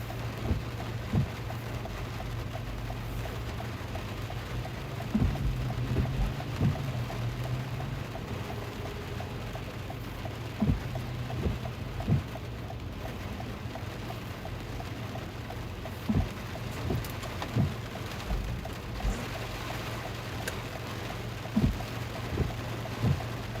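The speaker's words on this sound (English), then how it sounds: "So just some kind of moderate to sometimes heavy rain here in Dallas-Fort Worth," Moderate to heavy rain in Dallas-Fort Worth, a steady hiss of falling rain with a low constant rumble underneath and scattered soft drops and taps, no one speaking.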